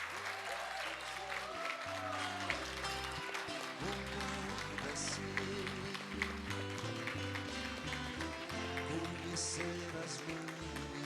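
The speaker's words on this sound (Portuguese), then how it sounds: "pedimos a todos os presentes uma grande salva de palmas aos nossos novos profissionais" Applause from the audience at a university graduation ceremony in Monteiro fills the hall continuously, blended with steady background music throughout.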